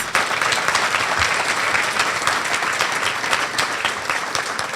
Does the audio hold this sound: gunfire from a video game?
no